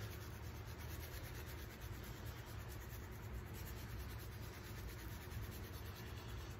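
Hands work a spiced apple rub into pork spare ribs, making a steady, continuous close-up rubbing and scraping with no talking.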